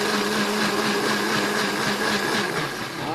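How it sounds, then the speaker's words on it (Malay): An electric blender grinds cooking ingredients, a loud continuous motor whine with a steady pitch and churning texture running the whole time, no talk. "Kita akan kisar bahan kita dalam mesin pengisar."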